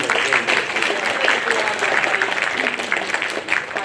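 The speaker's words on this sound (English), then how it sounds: "Give him a round of applause, please." An audience claps steadily throughout, a dense continuous applause from a crowd filling the whole stretch.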